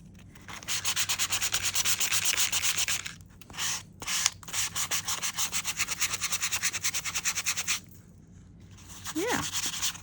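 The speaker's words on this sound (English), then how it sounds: "So if you've got like a sanding block, it doesn't have to be like my Tim Holtz sanding disc" Hand sanding with a sanding disc or block, a fast rhythmic rasping of strokes in steady runs with short pauses, close and fairly loud, with a brief voice near the end.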